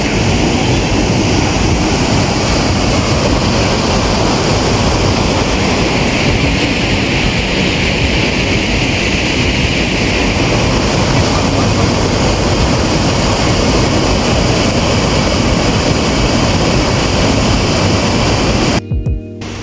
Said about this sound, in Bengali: আমি এখন আছি ঘাগড়া ওয়াটারফলসে।